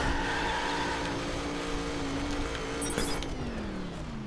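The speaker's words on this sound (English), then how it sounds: "The amazing horsepower of this Mustang, it's unbelievable" A Ford Mustang GT in the racing game The Crew revs with a steady engine drone that sweeps down in pitch over a few seconds, moderately loud, with no talking.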